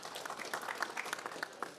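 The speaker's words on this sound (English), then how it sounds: "Give her a round of applause, please." Applause from a conference audience at a climate dialogue during COP29, a fairly faint, steady patter of many hands with scattered sharper claps, heard from a distance with no talk over it.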